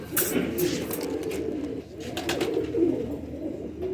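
Old-breed pigeons, kept by a fancier, coo in low rolling calls that run steadily through the moment, close by, with a voice murmuring faintly underneath.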